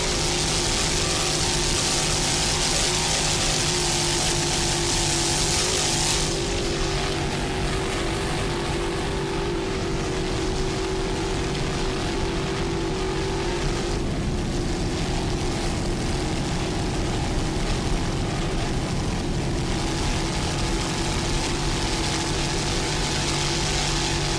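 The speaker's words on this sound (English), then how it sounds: "Nice throttling job there by Ryan Beckley from Bradenton, Florida." A 28-foot Armada offshore racing powerboat runs at throttle during the 2000 APBA Key West Offshore World Championships. Its engines give a loud, continuous, dense roar that lasts the whole stretch, with slight swells in intensity and no voices.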